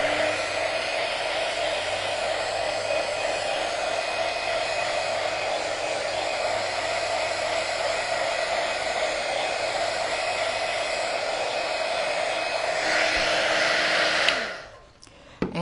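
A hair dryer blows steadily and loudly up close, drying a handmade paper craft card, then clicks off near the end.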